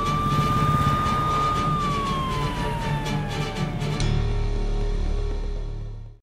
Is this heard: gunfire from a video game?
no